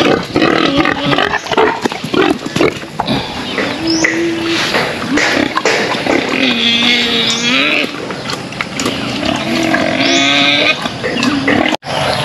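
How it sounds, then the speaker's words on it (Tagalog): Free-range pigs squeal and grunt loudly and close up at feeding time on a farm, with repeated long, rising squeals and scattered thumps and clatter between them. "dito bibigyan din natin pakain itong mga free range nating baboy dito"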